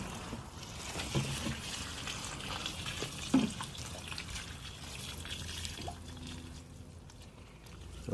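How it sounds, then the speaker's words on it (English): Water poured onto plants inside a warm allotment polytunnel in February, a soft steady trickle and splash running continuously at close range, with a brief louder knock partway through. "this is the first time in many months that the plants receive some water here"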